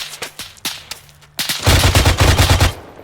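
An Arma 3 machine gun fires, starting with scattered single shots and distant cracks before breaking into a loud, rapid rattling burst that continues for over a second.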